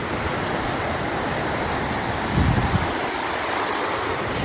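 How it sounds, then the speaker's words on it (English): Steady, loud roar of Lake Erie waves breaking and eroding the beach shoreline at Presque Isle, Pennsylvania, with a constant rush of surf and wind and no voices. "These extreme waves are just taking it away."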